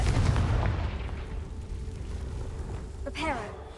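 A Confringo blasting spell from a Harry Potter video game, heard as a loud, rumbling explosion burst that fades into a long decaying tail, followed by a short whooshing effect near the end.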